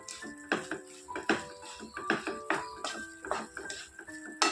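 Ginger garlic pickle with salt and vinegar is stirred in a pot, giving a rapid series of spoon knocks and clinks against the vessel, some with short metallic ringing tones, close and moderately loud.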